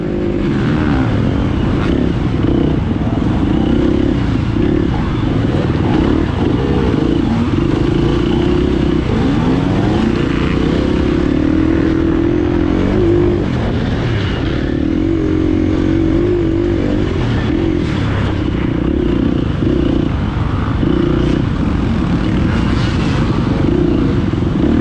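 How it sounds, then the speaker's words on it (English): Dirt bike engines in an off-road hare scramble race on slick, muddy trails, a loud continuous close-up engine roar with revving rising and falling through turns, no talk heard. "Tell by that bike in front of me slipping around going through some of these turns"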